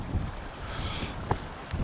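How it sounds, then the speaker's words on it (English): Strong gusty wind buffets the microphone beside a lake at a carp fishing swim, a steady broad rushing roar with a couple of faint knocks and no talk. "It is really windy."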